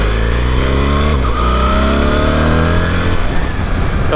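A BMW R 1300 GS motorcycle accelerates hard, its engine note climbing steadily and loud up close, with a brief dip near the middle as it shifts gear, and no talking.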